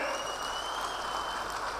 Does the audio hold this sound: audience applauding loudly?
yes